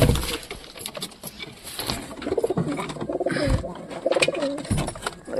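Pigeons cooing inside a loft, several birds giving repeated low throaty coos close by, with wing flutters and soft shuffling scattered through.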